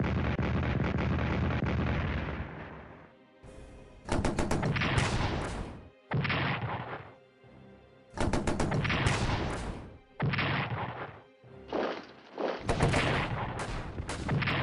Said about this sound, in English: Oof, took damage from the defensive artillery before you go in.